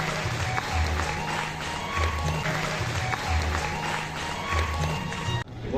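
Audience applause welcoming a guest at a community jubilee ceremony, sustained clapping from a crowd over a low rhythmic background, cutting off abruptly near the end.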